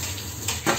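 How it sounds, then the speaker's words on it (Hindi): Tea boiling in a pot on the stove gives a steady close bubbling hiss that swells into a louder surge near the end of the brief moment. "चाय भी अच्छे से उबल रही है"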